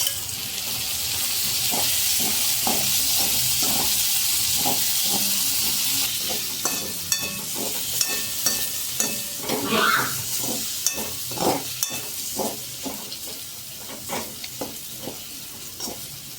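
Boiled peanuts tipped into a pan of sizzling potato khichdi for a fasting meal, with steady frying hiss and repeated spoon-stirring scrapes and clacks close up, no one talking.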